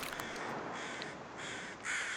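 Crows cawing in the survival video game The Long Dark, a few harsh calls at moderate distance over a quiet wind-like ambience, no talking.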